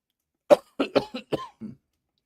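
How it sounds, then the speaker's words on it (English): A short run of six dry coughs in quick succession, close and fairly loud, with brief gaps between them and silence afterward. "you didn't need to hear me coughing."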